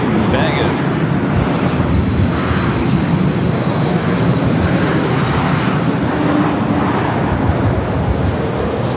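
A Lufthansa airliner's jet engines at LAX give a loud, steady roar that carries on without a break and fills the whole stretch, with someone speaking faintly underneath.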